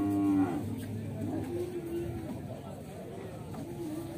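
Cattle moo at a livestock fair with many bulls, one loud close low moo at the start and another fainter one later, over steady crowd chatter and background noise.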